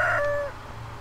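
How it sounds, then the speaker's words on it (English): A single rooster crow in the video game Stardew Valley, clear and fairly close, rising then trailing off over a low steady background hum. "I hear a rooster, but do I own one?"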